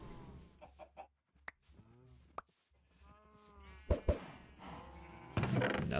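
Chickens in the video game Minecraft clucking and squawking in short bursts, mixed with other farm animal bleats and game sounds, fairly close and moderately loud.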